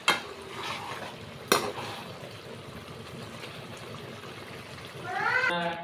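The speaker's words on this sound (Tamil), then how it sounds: "இப்போ நம்ம ரோஸ்ட் பண்ணி வச்ச முட்டையையும் சேர்த்து லைட்டாக ஒரு கிளறி" Roasted eggs are stirred into egg thokku in a frying pan. A soft, continuous sizzle runs under two clanks of a utensil against the pan, and a brief high cry near the end could be a cat.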